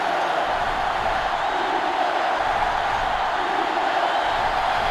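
A stadium crowd at a college football game between Georgia and Ohio State roars in a constant, loud, sustained wall of cheering that swells slightly but never drops away.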